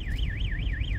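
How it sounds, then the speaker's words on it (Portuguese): A car alarm wails nearby on a town street in São Jorge do Ivaí, Paraná, its rising and falling electronic tone repeating several times, loud and steady. "um alarme disparado por aí"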